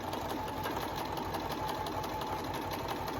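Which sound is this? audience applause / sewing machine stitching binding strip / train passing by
sewing machine stitching binding strip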